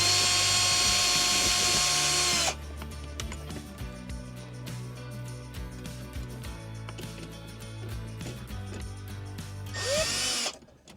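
A Milwaukee power tool runs hard on bolts in a 2003 Toyota Land Cruiser, loud and steady for a couple of seconds, followed by quieter ratcheting and clicking work, then another short loud burst near the end.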